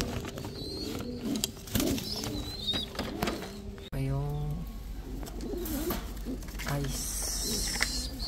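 Pigeons cooing in a loft, soft throaty coos and rolling calls up close amid rustling, wing flutters and a voice speaking over them.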